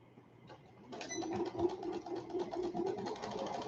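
A sewing machine stitching an elastic waist skirt starts after a brief quiet moment and runs in a fast, steady rhythmic chatter, close and moderately loud, with no voices over it.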